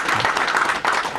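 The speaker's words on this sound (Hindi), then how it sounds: "इसके लिए मैं भी ताली बजाता हूँ इनके लिए" Applause at a newspaper's sixth anniversary celebration, a brief wash of many hands clapping together, steady and moderately loud.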